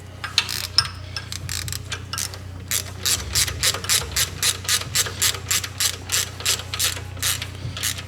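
A ratchet with a 14mm socket tightens the bottom bolt of a 150-amp alternator on a 1JZ/2JZ engine, giving a close series of rapid, evenly spaced clicks that speed into a steady rhythm, no talking.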